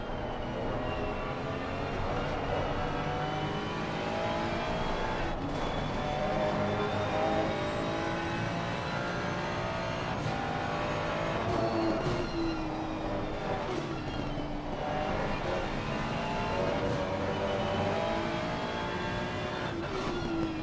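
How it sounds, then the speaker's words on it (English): Ferrari and BMW M4 GT3 race cars in a racing video game at Imola, engines droning steadily and loud throughout with rising and falling pitch as gears shift, no talk. "Sights and sounds of the Ferrari and BMW M4 GT3."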